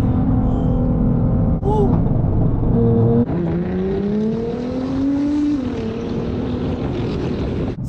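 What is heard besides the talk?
Nissan GT-R accelerating hard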